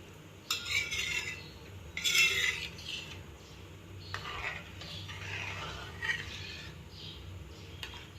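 A spoon stirs homemade ghee as it foams in a pot, scraping the sides and corners. The strokes sound faint and uneven, in soft bursts with light metallic clinks.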